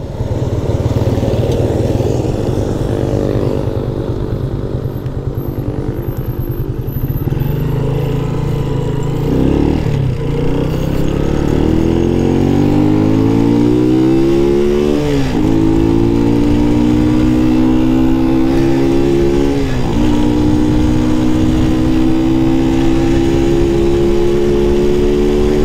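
A stock 125cc EXT motorcycle accelerates hard on a top-speed run. Its loud, close engine climbs steadily in pitch, dips briefly at each of a couple of gear changes, then winds up again.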